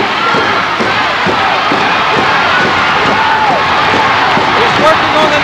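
A wrestling arena crowd swells with cheering and a steady roar, loud and continuous, while a commentator talks over it.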